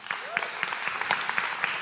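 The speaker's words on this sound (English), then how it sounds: "Yes, big round of applause" Short burst of audience applause, busy clapping at a steady level, with a faint voice briefly audible underneath.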